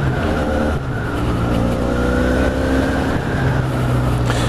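Benelli 502C motorcycle engine running while riding, a loud steady drone with a constant low hum and tonal engine harmonics that shift slightly, continuous over wind noise with no talking.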